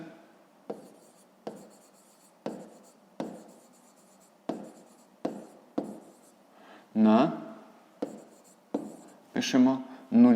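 Pen strokes scratching across paper in a series of short, regular bursts during a fifth-grade maths exercise, with brief moments of nearby speech breaking in toward the end.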